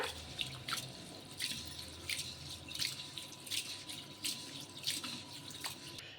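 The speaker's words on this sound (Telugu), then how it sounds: "బియ్యాన్ని బాగా కడిగేసుకుందాము ఒక 2 సార్లు" Water sloshes and splashes in repeated rhythmic bursts as rice is swished by hand in a bowl; close and fairly quiet, with no talking.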